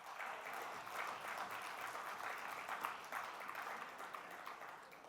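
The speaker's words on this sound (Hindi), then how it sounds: "आई नो ताली मारने में थोड़ी तकलीफ होती है" An audience at a real estate conference session claps softly and steadily for about five seconds, a faint, even patter of many hands heard from a distance.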